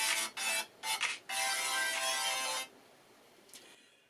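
Music plays through smartphone speakers, faint and somewhat tinny, in a few bursts, then fades to quiet.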